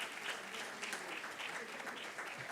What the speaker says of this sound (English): May I request a round of applause for Mr. Rajiv Lakhpati